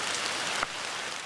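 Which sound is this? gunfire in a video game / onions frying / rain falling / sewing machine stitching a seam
rain falling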